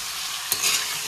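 Meat sizzles in a hot pan while it is stirred, giving a steady, bright hiss with a brief scrape and clatter from the utensil, and no talking.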